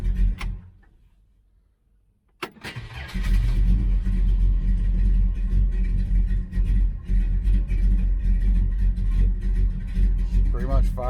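A 1966 Dodge Charger engine with a Holley 4150 carburetor fires back up after a near-silent pause, catching with a sharp burst and then settling into a steady, close, rumbling idle with a slight lope.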